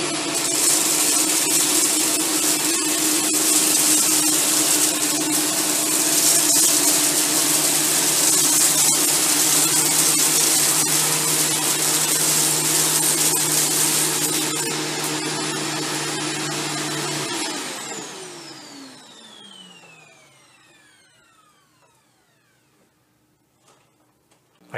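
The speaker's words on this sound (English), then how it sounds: "pass the vacuum over it in one forward pass" A Shark Stratos vacuum cleaner makes one forward pass over a row of debris on the floor, its loud steady motor whine holding for about seventeen seconds before switching off and spinning down into silence.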